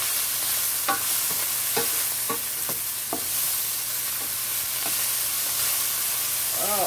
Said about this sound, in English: I'll just give that a stir.